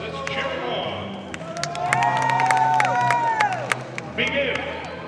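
A crowd at a women's basketball game between Long Beach City College and El Camino College cheers and claps, swelling loudly through the middle, with a voice speaking over the noise.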